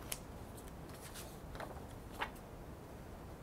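Quiet snips of scissors cutting scrap printer paper while shaping a craft jar label, a few brief separate cuts over a soft background hiss.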